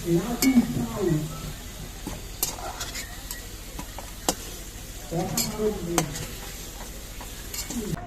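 Potatoes fried to a reddish colour in hot oil, sizzling steadily while being stirred and scraped in the pan, with clinks of a utensil and a voice speaking at times over the cooking.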